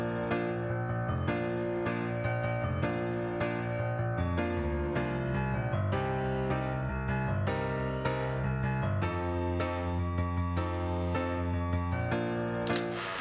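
A compressed piano plays together with a low piano bass line in an FL Studio beat. The two parts layer into a continuous stream of chords over a moving bass with steady loudness.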